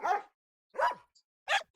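A dog barks three times in short, separate bursts with silent gaps between them, played as the animal sound from a Google search.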